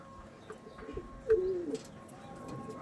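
A pigeon coos once, a short soft throaty call near the middle, over a quiet indoor background with faint chirps.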